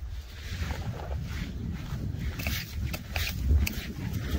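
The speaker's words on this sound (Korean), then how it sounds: "와, 바람 많이 불죠? 춥진 않은데 바람이 많이 부네요." Strong wind buffets the microphone outdoors on a walk near a ranch field, a steady rushing roar that swells and dips while someone talks over it.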